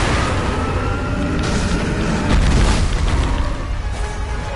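Firecrackers going off in the video game Sekiro, a loud booming burst with a dense, rumbling wash of crackling blasts that swells midway and holds strong throughout.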